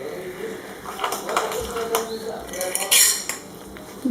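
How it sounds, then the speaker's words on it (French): Spoon or whisk clinking against a bowl while quinoa galette batter with parmesan is stirred, a run of small scraping taps and sharper clinks at close range, with faint background noise. "Je vais bien mélanger comme vous voyez."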